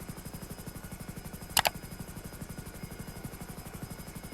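A Hunter military helicopter in GTA 5 Online flies steadily, its rotor thumping in a fast, even rhythm throughout, with a brief sharp crackle partway through.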